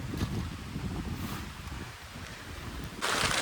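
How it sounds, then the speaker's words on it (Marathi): Strong wind gusting over a Konkan rice paddy just before heavy rain, a broad, steady roaring rush that swells into a louder, brighter hiss near the end as the downpour arrives, with no voices. "वारा बिरा बघा कसला आहे."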